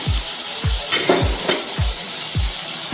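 Onions with turmeric fry in a pan for Odia-style chole, a dense, even sizzle with a regular low thump every half second or so and a couple of brief scraping clinks.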